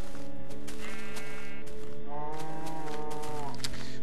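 Sheep bleating in the Minecraft video game, loud and near, with a couple of wavering bleats over a steady game background and no talk.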